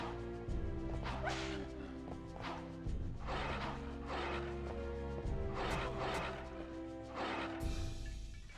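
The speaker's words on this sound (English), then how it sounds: "Really shitty thing here is putting these fucking dogs here." Dogs in the video game Castlevania: Legacy of Darkness bark in a repeated series of loud, sharp barks about a second or so apart, over a droning game soundtrack.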